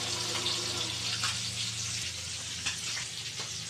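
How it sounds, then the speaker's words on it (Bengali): Shing fish (stinging catfish) fry in a pan, a loud, steady, close sizzle and crackle with a low background hum running under it throughout. "শিং মাছ আরও আছে, এগুলো আমি ভেজে নিচ্ছি"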